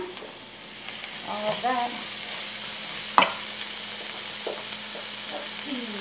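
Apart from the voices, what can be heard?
chopped ham added to frying pan for frittata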